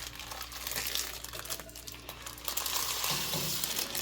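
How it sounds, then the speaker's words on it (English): Cooked rice is stirred together with water and bean juice, producing a steady wet, crinkly scraping and squelching that continues throughout, fairly close. "Now we're going to mix into this rice."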